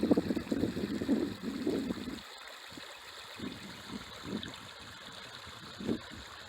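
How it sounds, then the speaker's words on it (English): Small creek running in a remote state park canyon, a soft steady trickle and flow of water beneath faint wind, with some low rumbling at the start. "You can hear the little creek running."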